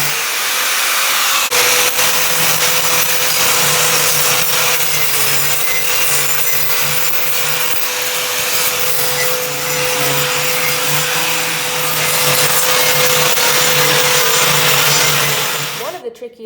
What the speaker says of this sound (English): this cup grinder will take care of it